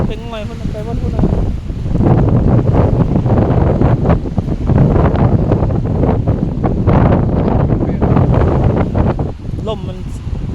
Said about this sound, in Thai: ลมมันอะไรอยู่นะ